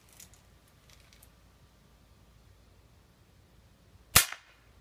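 A single sharp crack from a BB gun rings out near the end, loud and close against an otherwise quiet background.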